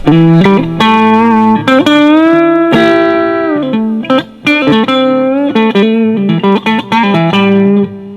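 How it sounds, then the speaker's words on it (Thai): An electric guitar plays a lead solo through an effects unit with reverb and delay, giving loud, sustained and bending notes mixed with quick picked runs. The solo plays on without pause for several seconds, with no talking. "มันก็มีเสียงรีเวิร์บกับเสียงดีเลย์อยู่ภายในนั่นเองนะฮะ"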